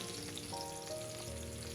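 Tempering for dal crackles in hot oil with a soft, continuous sizzle, faint and steady under a light background hum.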